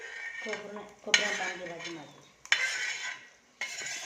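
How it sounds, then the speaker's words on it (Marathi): Masala spices dry-roasting in a pan, Vidarbha style, with a spoon or spatula scraping and stirring in bursts and clinking against the metal pan. Soft sizzling fills the gaps between the close strokes. "आता मसाला भाजणं सुरू आहे"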